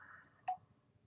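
A single short electronic phone beep chimes once, faint and brief, over a quiet room background with no talking.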